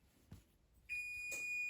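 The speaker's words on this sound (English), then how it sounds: "there goes my timer" Kitchen timer going off during pie crust rolling, a steady high-pitched electronic tone that starts abruptly after a soft thud and keeps ringing, fairly faint in a quiet kitchen.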